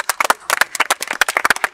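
A group claps at a school fashion and beauty pageant event: a short burst of quick, uneven hand claps, close and fairly loud, with no voices over it.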